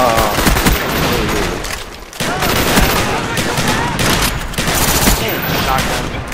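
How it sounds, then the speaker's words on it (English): Dense, continuous automatic gunfire and rapid shots from a Call of Duty: Black Ops Gun Game multiplayer match on Xbox 360, loud and sustained with a brief lull near the middle, voices faintly underneath. "I shot him 20 times"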